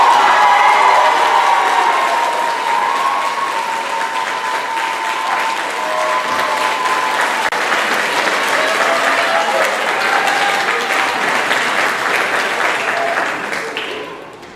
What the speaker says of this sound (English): Please help me give a warm round of applause for India Peoples